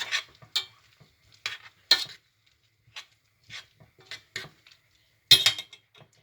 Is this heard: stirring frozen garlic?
yes